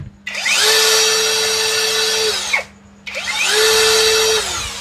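An MLHY 21V brushless drill runs in two bursts, each spinning up to a smooth, steady high whine, then winding down with a short pause between them, loud and close.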